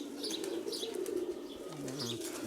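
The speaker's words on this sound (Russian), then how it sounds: "Голуби йдуть на посадочку." Pigeons flap their wings in a flurry as they settle down, with soft cooing and chirps nearby over a steady low hum.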